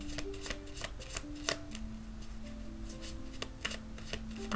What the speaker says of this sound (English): All right, so I'm just going to shuffle.